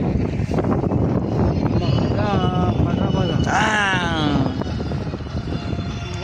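A loud, steady engine rumble fills the clip, with voices and shouting mixed in over the droning motor.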